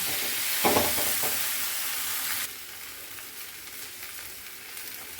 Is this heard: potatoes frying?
yes